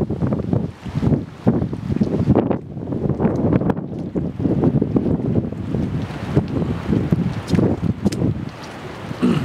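Storm wind gusts buffet the microphone at Point Pleasant Beach, with high water and surf roaring beneath, steady and loud throughout, with faint voices briefly audible.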